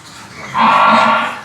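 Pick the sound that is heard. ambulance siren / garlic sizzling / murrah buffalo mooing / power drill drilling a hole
murrah buffalo mooing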